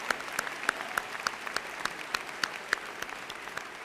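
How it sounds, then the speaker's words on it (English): A business school commencement audience applauds student award recipients, with steady, full clapping from a large crowd and a few sharp nearby claps standing out in the wash. "Please join me, ladies and gentlemen, in a round of applause to congratulate the Student Award recipients."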